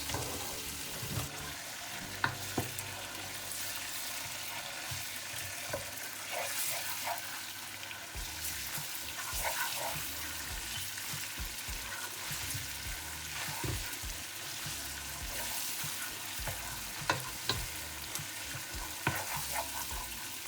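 Tomato puree for jollof rice fries in a pot with a dense, continuous sizzle and occasional stirring sounds, steady and fairly quiet, with running water faintly audible and nobody talking.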